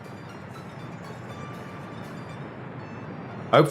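A freight train hauling coal rolls along in Workers & Resources: Soviet Republic, a low steady rumble of moving rail cars at moderate volume, ending with a louder clattering burst.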